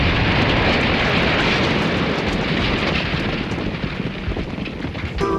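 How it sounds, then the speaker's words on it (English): Controlled explosion demolishing an old building: a loud, sustained roaring rumble of collapse that fills about five seconds and slowly eases off at the end. "Construction companies use carefully controlled explosions to destroy old and sometimes unsafe buildings"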